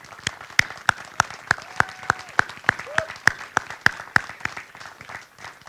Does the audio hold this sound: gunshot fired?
no